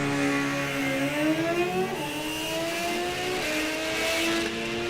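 Super Comp drag race cars launch off the line at an NHRA National Open, two engines screaming loudly with steadily climbing pitch as they accelerate away.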